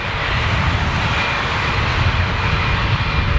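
Engines of a Boeing 747 on its final flight roar loud and steady, a broad, constant rumble with no talk over it.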